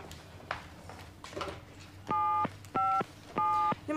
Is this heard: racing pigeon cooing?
no